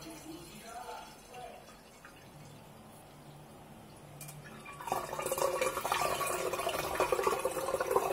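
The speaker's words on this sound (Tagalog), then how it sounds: "salain natin para hindi masama yung mga dahon-dahon ng tea" Cooled tea for kombucha poured through a strainer. Quiet talk comes first, then a steady, close trickle and splash of liquid builds for the last few seconds.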